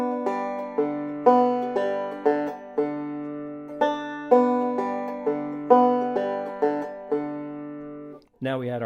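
Banjo picks out a minor triad arpeggio in a backward four-string roll, each plucked note ringing clearly and evenly in a steady rhythm, ending with a brief warbling tone.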